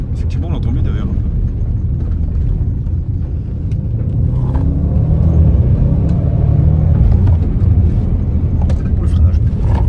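Heard from the back seat, an Audi RS6-R ABT gives a constant low engine roar and road rumble that swells toward the end, with a person talking over it.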